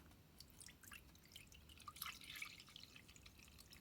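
Water poured into a warm reptile enclosure, treated with water conditioner, with soft continuous trickling and light dripping, quiet and close with no talk.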